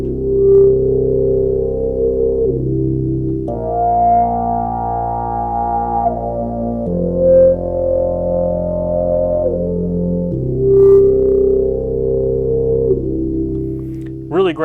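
An Oberheim OB-1 synthesizer preset plays sustained, buzzy held notes that step between pitches, with a slow harmonic sweep and a light effect. It is loud and close, with no voices, and ends in a brief rising warble.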